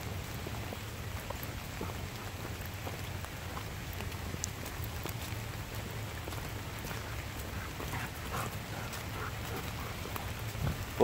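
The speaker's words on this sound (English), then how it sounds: "As you can probably hear and see, we're getting a morning thunderstorm right now." Steady rain falls in a morning thunderstorm in the Mississippi River valley, a continuous dense patter of drops on leaves and ground with no clear thunderclap, close and even throughout.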